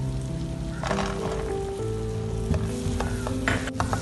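Cashews and raisins frying in butter in a hot pan give a steady, close sizzle with crackling bursts and a few sharper pops near the end.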